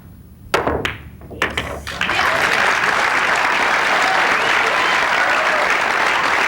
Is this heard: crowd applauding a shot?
yes